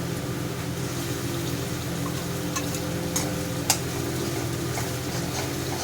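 Masala spice paste frying in hot oil for a fish curry, a steady close sizzle with faint crackles and a couple of sharp clicks from stirring, with no talking.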